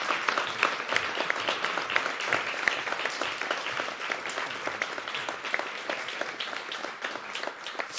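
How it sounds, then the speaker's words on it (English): An audience at a regional volunteer awards evening applauds a winner with sustained, dense clapping, steady and fairly even throughout. "can you put a massive round of applause to our winner, Kate?"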